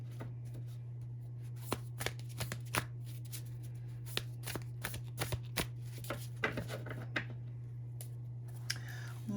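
Tarot cards being shuffled for a Sagittarius reading, a run of crisp riffling flicks and soft slaps at close range over a steady low hum, with no talk.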